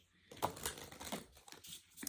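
A deck of tarot cards is shuffled up close, giving a quiet run of soft riffles, rustles and papery flicks for about two seconds.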